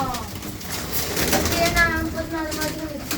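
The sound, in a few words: pigeons in a coop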